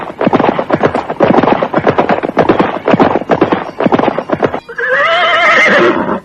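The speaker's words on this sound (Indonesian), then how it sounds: "Derap kaki kuda mereka terdengar nyaring, mengisi suasana yang hening dan sepi." Horses' hooves clip-clop in a quick, loud, regular rhythm for several seconds, then a horse lets out a long, shrill neigh close by, with no voices.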